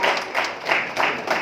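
Audience in a hall at a community evening event clapping for a book author, a dense burst of applause pulsing in waves, fairly loud and close.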